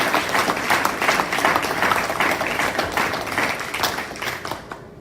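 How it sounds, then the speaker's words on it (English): An audience at Barry University applauds its hosts, steady dense clapping from many hands that holds strong and then tapers off toward the end. "join me in giving a big round of applause for our hosts tonight at Barry University"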